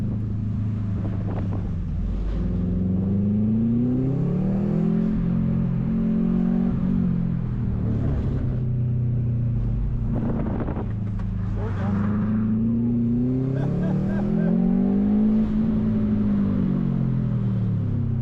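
Engine of a 2006 Subaru STi drifting on a winter autocross course, close up, rising and falling in pitch as the revs swing up and down, with wind buffeting the microphone and occasional voices.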